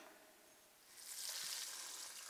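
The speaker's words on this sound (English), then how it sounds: "So I'm going to fry the rest of them." Beef cutlets fry in hot oil, a faint hiss that swells into a louder, brighter sizzle as more cutlets go into the pan.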